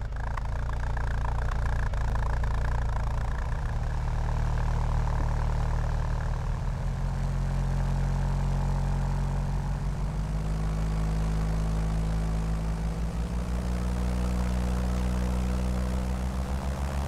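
A simulated Schweizer 300C helicopter engine in Microsoft Flight Simulator winds up as a steady, loud drone with a low rotor hum, its pitch gradually shifting lower over the run, with no voices.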